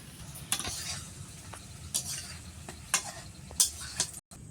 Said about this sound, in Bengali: কি সুন্দর একটা একটা করে আমি তেলে ছেড়ে দিচ্ছি